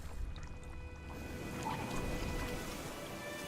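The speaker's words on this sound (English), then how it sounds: "Something nearby gurgling." Water gurgling in The Witcher 3 game world, a steady low bubbling wash with a faint tonal hum running under it throughout, moderately loud and continuous with no voices.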